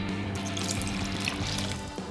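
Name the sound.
pouring water into a pot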